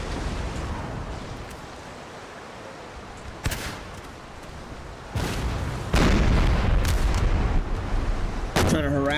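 Naval cannon broadsides in Napoleon Total War boom out in a sea battle, with several heavy blasts landing at irregular moments that grow denser and louder toward the end, set against a rumbling battle backdrop.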